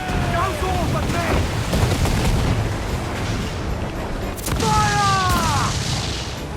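Ship cannons firing in Assassin's Creed IV Black Flag, deep booming blasts over a steady rumble of sea and battle noise, with shouting crew voices heard between the shots.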